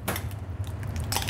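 A spoon or utensil scrapes and clinks against a bowl while butter, salt, black pepper and thyme are mixed for beef Wellington, brief close scraping strokes with light taps over a continuous low hum.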